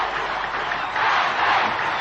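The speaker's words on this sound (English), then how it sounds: "Hear the crowd chanting, Ahmed" A packed wrestling arena crowd in Kuwait City roars in a dense, sustained wall of voices, the chant swelling slightly toward the end at a Ahmed Johnson vs Steve Austin match.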